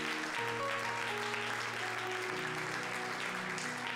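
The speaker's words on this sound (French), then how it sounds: "Est-ce que nous pouvons acclamer le Seigneur?" Church congregation applauding together, a dense steady clatter of many hands, loud and close throughout, with sustained musical tones from instruments ringing underneath.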